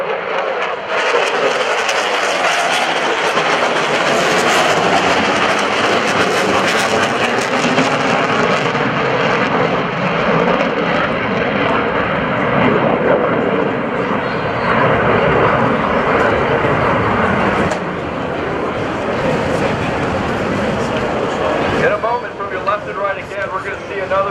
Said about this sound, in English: an F-18F Super Hornet, F-18C Legacy Hornet approaching the field